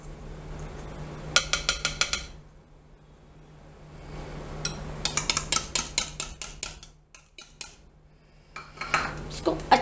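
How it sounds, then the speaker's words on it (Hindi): A spoon mixing ghee into Karachi halwa mixture in a bowl, bursts of rapid close metallic clinks and scrapes separated by quiet pauses, over a faint steady hum. "इसको अच्छे से हमें मिलाना है।"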